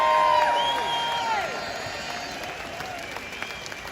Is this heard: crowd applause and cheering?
yes